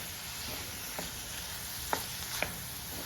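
Brinjal and shallots stirred in a frying pan for a Kerala-style brinjal curry, a constant close sizzle broken by a few sharp scrapes and taps of the spoon against the pan.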